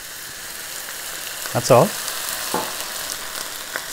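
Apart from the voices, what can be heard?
steam frying frozen peas with water in a hot wok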